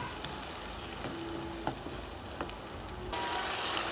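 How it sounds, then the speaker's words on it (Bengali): Spices and ginger-garlic paste sautéing in hot oil over medium heat, a dense close sizzle broken by a few scraping stirs of a spoon, louder and fuller in the last second, no talking. "দিয়ে এখন একটু কষিয়ে নেব সবগুলো মশলা।"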